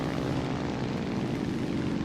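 A propeller aircraft engine drones steadily and loudly in a World War II flight sim dogfight, a constant close engine roar with no talk.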